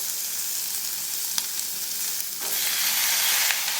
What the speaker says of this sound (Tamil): இப்போ இதோட தக்காளி சேர்த்துருவோம்.